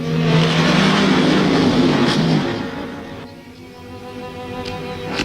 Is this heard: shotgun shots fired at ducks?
no